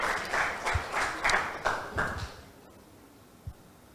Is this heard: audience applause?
yes